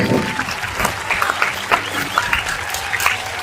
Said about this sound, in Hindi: बहुत बहुत जोरदार तालियां